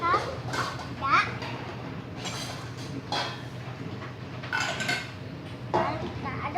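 A utensil scrapes and clinks while stirring chicken feed mixed with rice bran in a container, in irregular strokes under ongoing talk and children's voices nearby.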